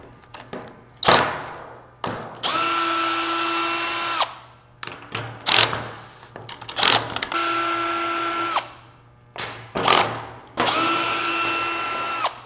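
A power drill backs three T30 Torx screws out of the window motor in a 1999–2004 Land Rover Discovery II door: three sustained whirring runs, each with a steady pitch, separated by clicks, clunks and handling noises, close up with no talk.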